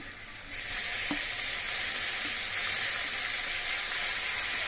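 Tomato pieces drop into a hot pan and set off a sudden loud, steady hiss of frying that carries on evenly, with one faint knock early on.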